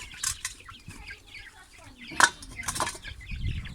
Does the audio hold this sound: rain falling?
no